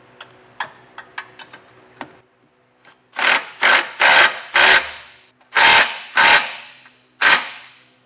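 Trailer hitch bolts being tightened with a 17mm socket and ratchet on a front-mount Curt hitch receiver on a 2024 Jeep: a few light clicks, then seven loud, close ratcheting bursts in an uneven rhythm.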